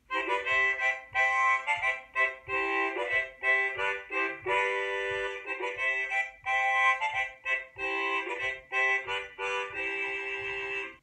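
Harmonica played in chords, giving a big, full, reedy sound in choppy bursts of breathy chordal phrases, close and alone with no voice.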